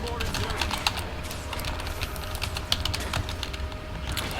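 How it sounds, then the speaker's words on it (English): Loud typing on a desktop computer keyboard, a steady stream of sharp clicks and clacks running throughout at close range, with a few louder keystrokes standing out. "I apologize for my keyboard. It might be loud."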